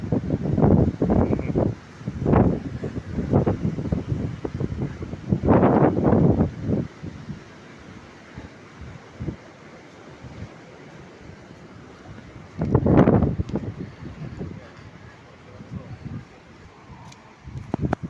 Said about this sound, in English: The palm trees are blowing in the wind as Bob Dylan sang.